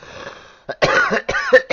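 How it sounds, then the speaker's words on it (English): A few harsh, close coughs in quick succession after a brief quiet moment. "Give me a minute while I cough."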